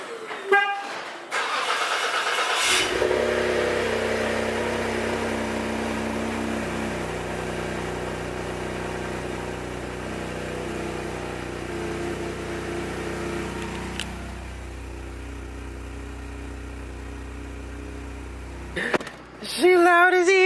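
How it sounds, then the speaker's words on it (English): A Ford Fusion Sport engine cranks and fires up from cold, then settles into a loud, rough idle with a rising rev; a horn-like blare sounds near the start. "Let's get a cold start for the boys."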